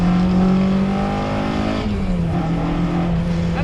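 A naturally aspirated Mazda MX5 engine revs up under acceleration, a close, loud rising drone heard from inside the car, dipping briefly at a gear change before climbing again, with no one talking.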